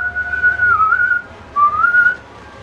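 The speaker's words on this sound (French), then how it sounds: "quand je siffle" A man whistles a clear, steady tune in two phrases with gentle pitch dips, loud and close with no other sound.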